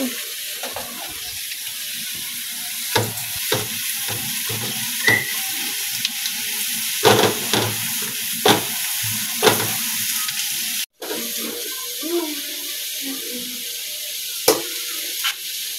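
Garlic sizzles steadily in a hot pan for butter garlic shrimp and crabs, with chili already added, while a spoon scrapes and knocks against the pan in irregular strokes, close and continuous.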